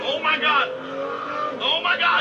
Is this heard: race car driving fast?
yes